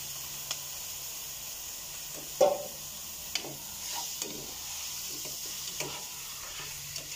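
Pork frying in a pot for sinigang, a soft steady sizzle and hiss at low level with occasional faint knocks of a stirring utensil; no talk.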